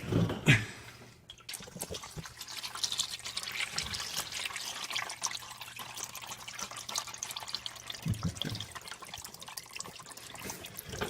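Engine oil draining from the oil pan of a Dodge Grand Caravan with a 4.0 litre engine, a steady soft trickling stream that continues quietly and evenly throughout, with a few small clinks near the start.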